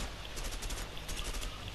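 Gunshots in the video game A Way Out, a rapid rattling burst of shots packed together under a steady noisy bed, fairly loud and with no talk.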